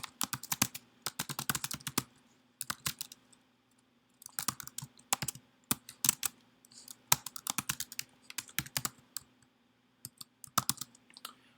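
Computer keyboard typing in bursts of quick, crisp key clicks separated by short pauses, close and fairly quiet over a faint hum.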